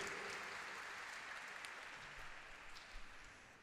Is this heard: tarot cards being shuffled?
no